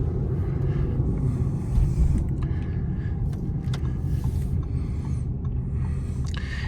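Deep, loud 3-liter diesel engine rumble from an Audi A7 Sportback 45 TDI Quattro holds steady throughout, swelling slightly as the throttle rises, with no voices present.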